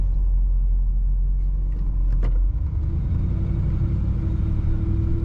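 A 1951 Ford Custom 2-door sedan's low factory exhaust rumble drones steadily up close, shifting in tone partway through as the car keeps running.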